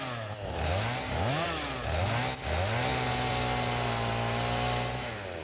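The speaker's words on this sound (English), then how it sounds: "I also should chainsaw some of this stuff, because this is mycelia" A chainsaw in the game Satisfactory cuts through plants, its engine revving up in several rising bursts before holding a steady loud drone, close and with no talk.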